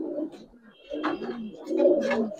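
Soft, low coos from Giribaz and coloured fancy pigeons repeat in short bursts across the clip, with faint chirps above them and no talking.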